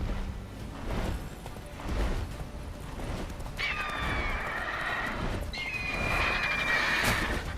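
Roach, the horse in The Witcher 3, gallops with steady thudding hoofbeats and lets out two loud, shrill neighs in quick succession, close and clear over the running rhythm.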